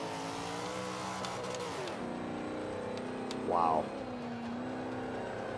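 A GMC van revs its engine in the Forza 5 racing game, struggling up a hill with hard shifts, the engine drone running steadily throughout while someone talks over it.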